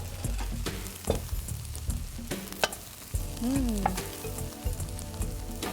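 Oyster mushrooms sizzle and fry in a hot pot, a close, steady crackle broken by stirring clatters and scrapes, with a brief squeaky tone partway through.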